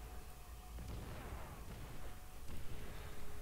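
A few sharp sniper rifle shots from the World War II shooter World at War crack out, spaced apart over a dense rumbling game background.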